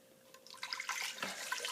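Tap water running and splashing into a pot while making cranberry sauce from scratch, a bright rushing pour that starts softly and grows fuller and louder, heard alone without talk.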